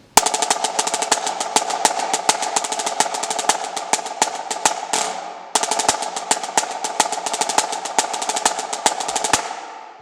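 A marching snare drum plays a crisp, rapid cadence peppered with five-stroke rolls and sharp accented hits, loud and close, in two phrases separated by a short pause.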